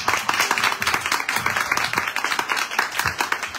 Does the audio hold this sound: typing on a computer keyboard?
no